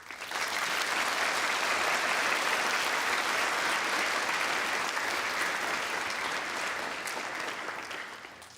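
A large audience at the Ritsumeikan Asia Pacific University September 2023 entrance ceremony gives a warm round of applause, a dense, steady roar of clapping that holds evenly and then tapers slightly at the end.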